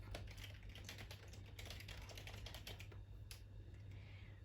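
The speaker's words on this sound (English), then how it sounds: "So let's just type brush from the top." Rapid, uneven keystrokes on a computer keyboard clatter continuously and close by, faint overall, over a low steady electrical hum with no talking.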